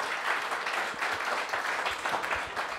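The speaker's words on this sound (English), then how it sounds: "I guess a round of applause for the food too." Audience applause at a live comedy and barbecue show, a dense, steady wash of many hands clapping close and fairly loud, sustained throughout with faint voices mixed in.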